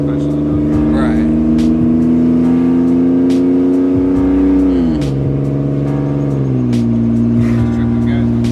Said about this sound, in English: It's a muffler delete all the way up to like right here.